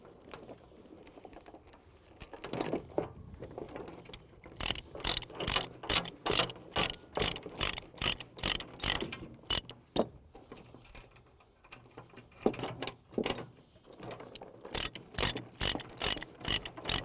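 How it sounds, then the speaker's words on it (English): Ratchet binder being cranked to tighten chain on a mini excavator hauled on an equipment trailer, rapid rhythmic clicking strokes in runs with brief pauses, close and distinct, no talk. "Binder chains are designed to latch like that."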